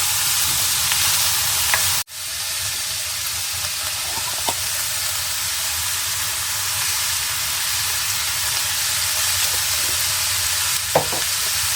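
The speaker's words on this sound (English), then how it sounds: "I just need to get it in the pan, get it all heated up and constituted with the cabbage and onions" Sausage sizzles in a pan with cabbage and onions, a steady, close frying hiss that runs throughout with a brief dropout early on and faint clicks of the utensils.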